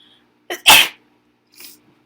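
Two quick sneezes close together, the second loud and explosive, followed by a fainter third one after a short pause.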